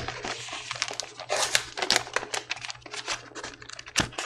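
Thin airmail-like rice paper CD booklet handled close up, giving a continuous stream of soft crinkles, rustles and quick papery ticks over about four seconds, with no voices.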